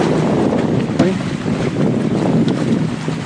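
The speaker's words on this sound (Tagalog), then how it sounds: "So ayan, may tumadaan dito, barge." A passing barge's engine drones low and steady on the water, mostly buried under gusty wind noise buffeting the microphone.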